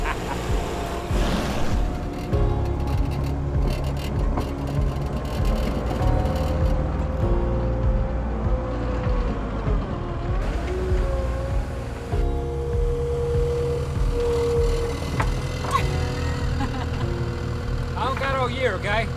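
A loader with a bucket runs its engine at a steady, heavy low rumble, rising slightly as the throttle is sped up, with people talking and cheering nearby throughout.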